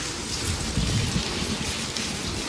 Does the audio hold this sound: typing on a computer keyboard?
no